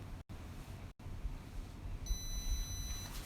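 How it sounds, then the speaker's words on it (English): A timer on an F-16 HOTAS throttle console for a Saitek Pro Throttle gives one steady electronic beep that holds for about a second, faint over low hum and room noise. "exactly 14 seconds it will reset the timer as well as send a beep sound also."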